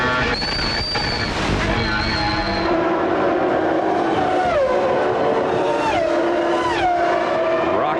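1995 Formula 1 cars racing at the Canadian Grand Prix on a circuit of public park roads, high-pitched engines screaming and rising and falling through gear changes, loud and steady.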